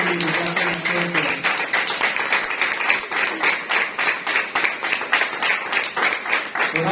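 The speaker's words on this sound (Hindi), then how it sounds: "आइए जोरदार तालियां खुदा के सलामत के लिए" A church congregation applauds loudly and continuously, dense overlapping clapping filling the room for several seconds without a break.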